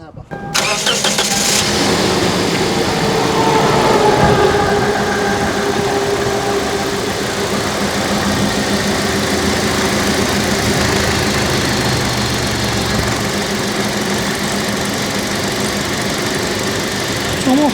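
A Toyota Prado running on sunflower oil mixed with Bardahl LXR starts up with a short burst at the beginning, then settles into a steady, loud, rough idle with some knocking. Voices talk over the engine throughout.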